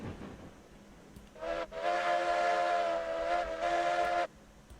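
A steam locomotive in the train game RailRoads Online lets out a loud, steady blast of steam with a strong whistling tone that holds for about two and a half seconds before cutting off sharply.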